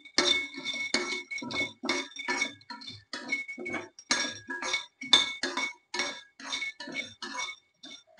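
Peanuts dry-roasting in a pan, stirred steadily so the shells give a continuous run of bright clinks and rattles in quick repeated bursts, close and fairly loud, with no talk.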